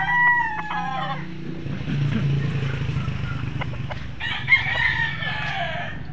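A fighting rooster offered for sale crows loudly and close, then a second crow follows from a bit further off. Low rumbling background noise runs throughout, and a few short clucks can be heard.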